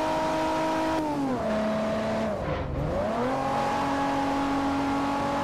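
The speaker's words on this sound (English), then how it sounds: "Revving the absolute arse off of this car." Car engine in Forza Motorsport 4 revved hard, a loud sustained whine that dips as it shifts down and then climbs back and holds high, alone with no voices.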